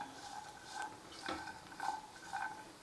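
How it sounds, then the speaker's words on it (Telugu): Makhana (fox nuts) fry in ghee in a pan. A faint, close sizzle is joined by a few soft scrapes and clinks of a spoon against metal, with no speech. "మఖానా ఒకటి సపరేట్గా ఫ్రై చేద్దాము."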